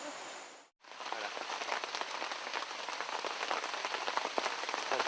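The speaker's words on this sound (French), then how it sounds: "Il pleut, il pleut," Rain falling in the jungle, a dense steady patter of drops on surfaces that starts after a brief gap and continues evenly throughout, close and fairly loud with no talking.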